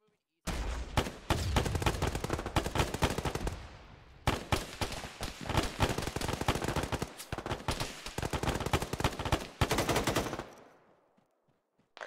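Sustained automatic gunfire from an Arma firefight against a BRDM armored car, dense rapid bursts in three long stretches broken by brief pauses, loud and close.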